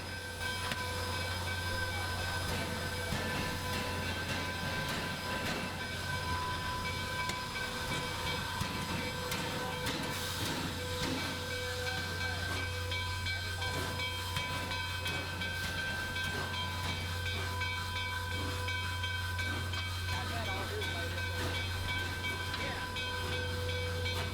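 A steam locomotive runs steadily, with a low constant drone, hissing and faint mechanical clanking, heard from a moderate distance amid a murmuring crowd.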